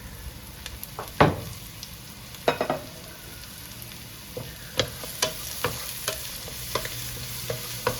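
Onion, capsicum and tomato sauté in a pan for a chicken lasagna filling, a steady low sizzle with scattered scraping stirs and occasional clinks of the spoon against the pan, close and moderately quiet.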